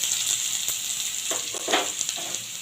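Chopped onions go into hot oil already fried with whole spices for a chicken dish, sizzling steadily with sharp crackles and a few spatters, close by and moderately loud.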